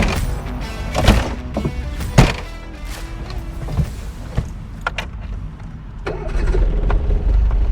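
A worn-out car's engine cranks and catches on the first try, a short starter whirr and thump followed by a steady idle, close and loud with clicks and handling noises around it.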